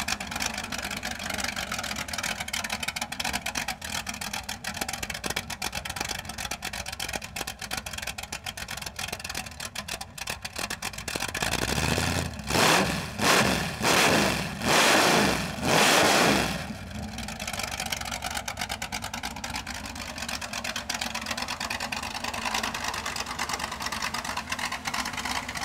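A car engine with open headers runs on a homemade test stand, idling loudly and steadily, then revving hard several times in quick bursts midway before settling back to a rough, continuous idle.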